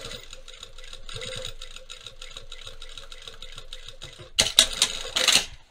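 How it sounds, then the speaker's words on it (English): A sewing machine edge stitching trouser fabric for Upland trousers runs in a fast, even mechanical patter, then breaks into louder, harsher bursts of stitching near the end, close up with no talking. "I am going to edge stitch on the end here to sew this up"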